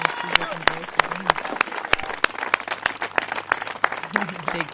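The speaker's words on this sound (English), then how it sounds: "Big crowd giving her a huge round of applause that she deserves" A big crowd applauds disc golf champion Eveliina Salonen during round four of the 2019 Memorial Championship: continuous dense clapping throughout, with commentators talking over it.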